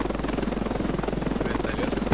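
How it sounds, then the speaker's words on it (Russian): Helicopter rotor in the shooter game Ravenfield, a steady rapid chopping thump that runs loud and close throughout. "Вертолет."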